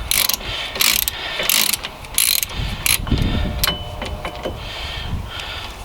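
A ratchet loosens a rear hub nut on a Pontiac Montana, giving rapid close metallic clicking in short bursts with a few heavier clunks, and no talk.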